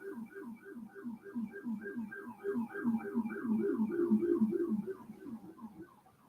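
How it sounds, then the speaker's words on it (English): Sirens wail outdoors in a rapidly warbling pattern, cycling up and down continuously at moderate loudness, swelling slightly in the middle and fading at the end. "You hear the sirens?"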